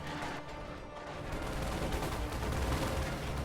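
Battlefield din in a strategy game, with scattered gunfire and mortar barrage blasts mixing into a dense, continuous rumble of combat at moderate volume.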